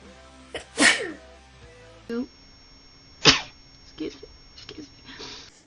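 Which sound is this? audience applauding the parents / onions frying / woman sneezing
woman sneezing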